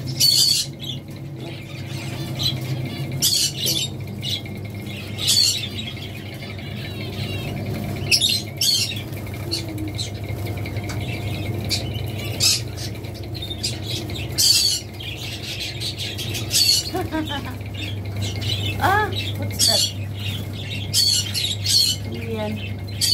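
Young birds squawk and chirp in repeated bursts over steady background hum, with occasional wing flutters and rustling nearby.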